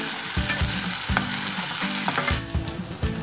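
Tomato puree with ginger-garlic paste sizzles and fries in a pan for dal makhani, with a steady hiss broken by repeated stirring scrapes and knocks of a spoon against the pan.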